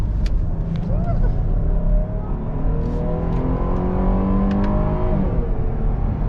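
A huge SUV with a tuned transmission and air suspension produces a loud, steady engine drone whose pitch climbs and shifts like gear changes under acceleration, heard close and continuous.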